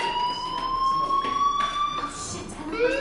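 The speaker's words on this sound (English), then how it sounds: "Hey, do you hear that fire alarm? That means you should be outside." A fire alarm rings in the video game Life Is Strange, a steady electronic siren-like wail with sustained rising tones, loud and continuous for the whole stretch.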